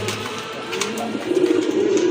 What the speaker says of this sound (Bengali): এখানে আরও দুইটা কবুতর দেখতে পাচ্ছেন